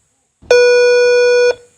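A race-start timer gives one loud, steady electronic beep lasting about a second, clear and close, before a riding challenge begins.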